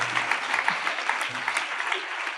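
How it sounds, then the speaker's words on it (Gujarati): A spiritual discourse audience breaks into applause, a fairly soft but continuous patter of many hands, steady for a couple of seconds with a faint voice underneath at the start. "વાહ, તાળી પાડો."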